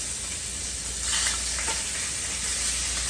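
Yellow onions sizzle steadily in hot oil in a pan, a close, continuous hiss with a slight swell partway through and no voices.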